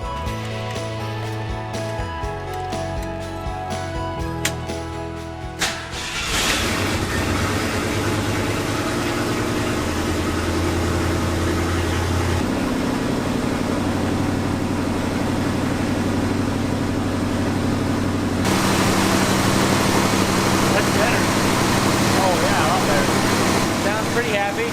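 A restored 1974 Ford F-250 Highboy engine idles in a steady low rumble, smoothing out and growing slightly louder partway through, while a person talks over it.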